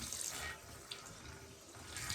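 Water runs steadily from a tap during a hair wash at a salon, a soft, even hiss of flow close by and fairly quiet, with no talking.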